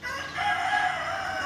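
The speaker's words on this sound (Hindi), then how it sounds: "मुर्गे बोल रहे" A single rooster crows once, a sustained nasal call at moderate distance, with no voices.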